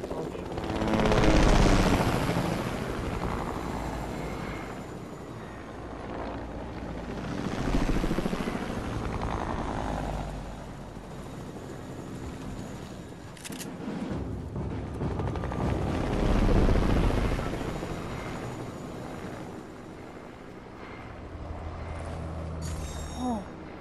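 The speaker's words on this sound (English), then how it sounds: "They're up there. The helicopter's coming up." A helicopter in the video game Fortnite thrums and swells in and out over about twenty seconds, mixed with bursts of machine-gun fire and explosions.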